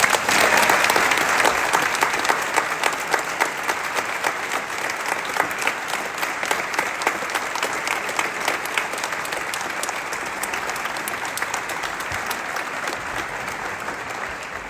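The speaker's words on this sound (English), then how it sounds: "Please can we give him a round of applause" Sustained applause from a crowd at a British Army physical training instructor course passing out parade, steady clapping throughout that thins slightly toward the end.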